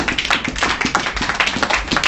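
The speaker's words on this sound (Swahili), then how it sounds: "Hebu tupigie Bwana makofi makubwa." A church congregation gives a burst of loud, rapid hand-clapping in praise, dense overlapping claps filling the space close by.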